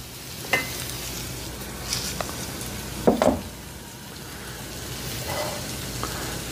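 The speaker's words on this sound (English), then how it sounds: "Okay, so this first mushroom has started sizzling." Portabello mushrooms sizzle in a hot oiled pan with a steady frying hiss, broken by a few clacks and bumps of cookware and utensils close by.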